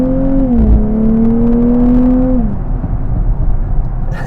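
Exhaust note of a Nissan Z Nismo rear-wheel-drive sports car under acceleration, a close, loud engine tone that climbs steadily in pitch, dips briefly, then fades into road and wind noise.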